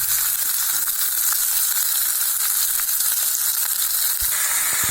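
Onions frying in hot oil with fennel seeds in a kadai, a steady, loud, close sizzle that holds at an even hiss throughout, with no talking.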